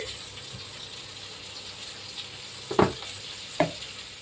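Chicken curry is stirred in a frying pan over a steady low sizzle, with two short scraping strokes of a spoon near the end and no voice.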